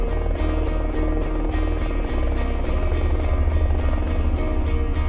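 A helicopter flies during a humanitarian assistance and disaster relief training exercise, its rotor producing a loud, steady, rhythmic thudding drone that runs unbroken and fairly close throughout.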